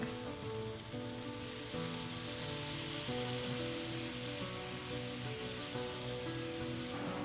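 Food frying in a pan on a camp stove, a steady, dense sizzle that runs continuously and fairly loud, with a faint hum of other tones beneath it and no talking.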